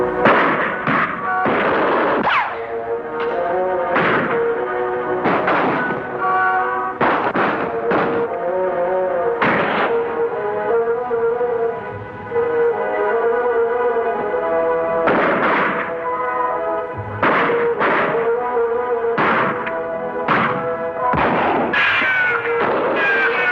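Gunshots in a western TV episode, repeated sharp booming reports scattered across the clip, loud and echoing, mixed with dramatic music and action noise.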